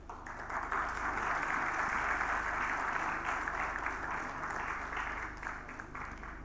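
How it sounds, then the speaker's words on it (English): Conference audience giving a big round of applause at an India–Mediterranean industry conclave, a dense, even wash of clapping that holds steady for several seconds before thinning slightly at the end. "Ladies and gentlemen, please welcome with a huge round of applause to the session."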